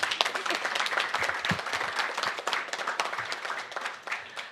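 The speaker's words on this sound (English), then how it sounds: "Please clap to that." Audience clapping in a hall after a speech by a UNDP regional director, a lively patter of many hands that swells early and gradually thins out over several seconds.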